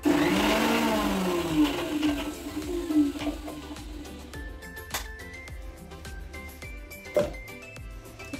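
A mixer grinder coarsely grinds green chillies, giving a loud whirring motor roar that spins down over a few seconds, followed by faint clinks and rattles of the jar.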